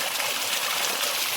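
Water gushing forcefully from a borewell pipe driven by a 3000W BLDC solar motor at 800 feet deep, a steady loud hissing splash with no pauses.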